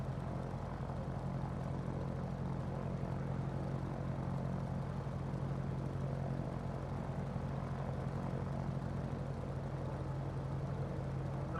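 Steady propeller drone of a Grumman Wildcat engine held at about 1300 RPM in a flight game, with a continuous low hum and a rough, even texture. The aircraft is on a carrier deck in Hawaii. The engine sounds close and is heard alone without talk.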